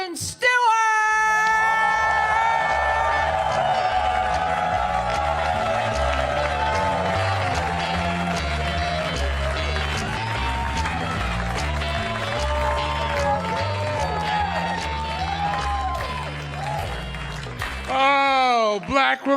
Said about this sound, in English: Please clap it up for my friend Jason Stewart.